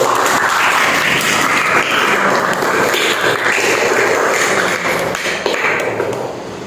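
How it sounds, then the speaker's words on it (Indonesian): A classroom of students performs a rhythmic spirit clap for group 1 during a school prayer-practice lesson, a dense, loud burst of hand claps filling the room before trailing off slightly at the end. "Tepuk semangat untuk kelompok 1"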